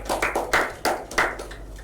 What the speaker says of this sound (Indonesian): Beri tepuk tangan dong untuk Zaskia